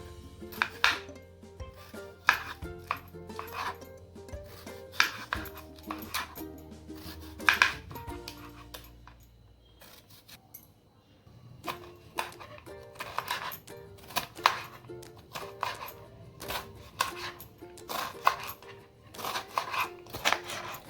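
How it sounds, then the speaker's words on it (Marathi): Raw mango being finely chopped with a knife on a board for Mumbai-style bhel puri, a quick series of crisp, close knife taps coming in bursts with a short pause in the middle. "त्याचे बारीक आपण चिरून घेणार आहे कैरी"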